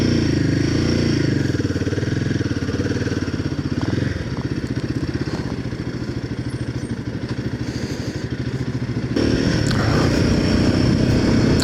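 Royal Enfield Himalayan 450 motorcycle out on a road ride, steady loud engine drone with wind rush close to the rider, the tone dipping and rising as it eases off and picks up speed.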